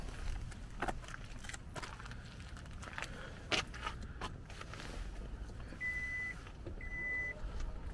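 A 2022 Hyundai Ioniq 5 power tailgate closes on its own, giving two short, thin warning beeps near the end over quiet, faint outdoor background noise.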